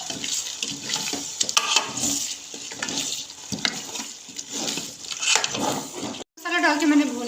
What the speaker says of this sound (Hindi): हमारा सालन भी थोड़ा सा पानी डाल देंगे यहाँ पे।